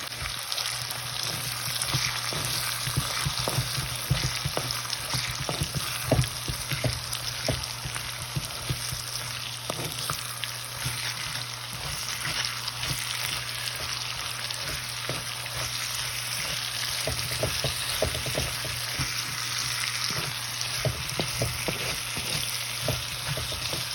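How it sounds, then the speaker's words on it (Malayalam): Garlic, green chilli and beetroot sauté in a pan, a steady close sizzle with faint intermittent stirring scrapes running throughout. "വെളുത്തുള്ളി ഇട്ടിട്ട് സ്വല്പം പച്ചമുളക് കൂടി ഇട്ട് കൊടുക്കാം. ഒന്ന് വഴറ്റിയെടുക്കണം."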